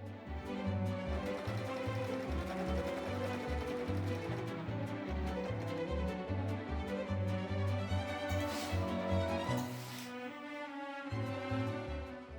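A sewing machine stitches a seam in suede fabric with a steady, regular pulsing rhythm, running continuously with a brief pause near the end, fairly quiet and alone.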